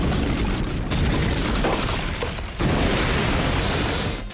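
Loud, dense anime fight audio from My Hero Academia's Todoroki versus Bakugo battle, with continuous roaring blasts and explosions filling the whole stretch and a brief dip midway.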